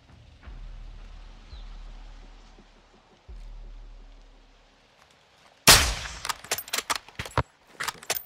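Sniper rifle fire in Call of Duty Modern Warfare 2, quiet low rumbling at first, then a sudden loud crack followed by a rapid series of sharp, close gunshot-like bangs and clatter.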